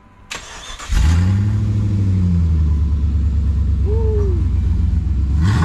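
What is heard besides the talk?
Jeep WJ engine starting and driving off on test drive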